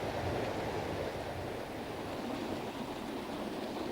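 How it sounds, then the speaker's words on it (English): A turbulent, roughly three-foot-wide trout feeder stream rushes steadily, a broad continuous watery roar close by with no voices. "this is one of the feeder streams where the trout are about to spawn"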